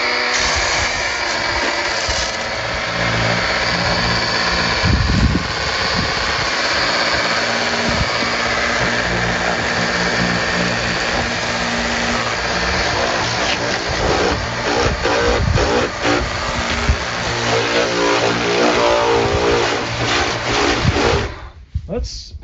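A Ryobi RY12035 power cleaner on its turbo setting blasts salt off the wheels of a Dodge Dakota pickup, a loud, continuous motor whine and hiss of spray that holds steady for about twenty seconds before cutting off.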